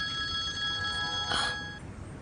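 A telephone rings with a steady electronic tone, fairly quiet and close, then stops partway through, leaving a soft room hush.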